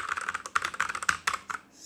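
Rapid typing on a Machenike K500 mechanical keyboard, with crisp, fairly quiet key clicks arriving in quick irregular bursts. It is close-miked and heard alone for about two seconds.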